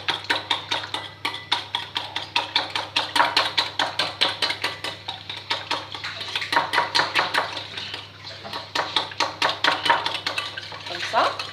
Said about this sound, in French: Alors, je mélange mes œufs.